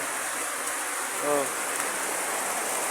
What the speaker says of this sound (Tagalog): Kusog kayong ulan na.